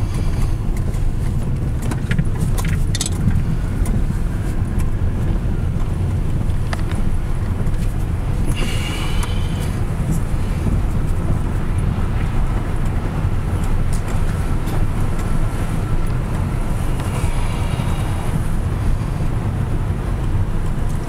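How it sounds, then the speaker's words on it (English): A sheriff's car passes on the road in a broad, steady wash of tire and engine noise that swells and lingers for about twenty seconds, with faint squeaks at moments and no talk. "that was a sheriff's car"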